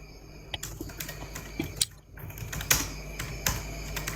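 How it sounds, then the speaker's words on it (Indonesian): Rapid clattering keystrokes on a computer keyboard during a late-night live stream, close and continuous with a brief pause midway, no talking. "sambil ngetik aku sambil mikir Mas Boy"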